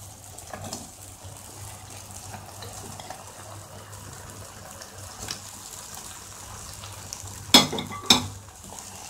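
Soya chaap gets stirred through masala in a kadhai: a low steady simmer and hiss runs throughout, with soft scraping and two sharp clinks of a spoon against the pan near the end.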